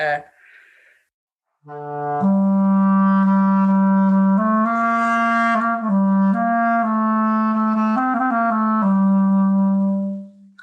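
A clarinet plays a smooth, connected melody of sustained notes in one continuous breath, clear and close with no talking.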